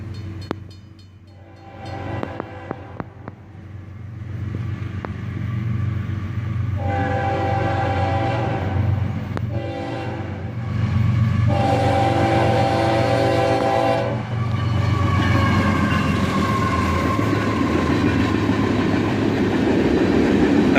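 A CSX ore train led by an ES44AH locomotive passes through town at sunset, sounding several loud, sustained horn blasts over a steady rumbling roll of wheels and cars.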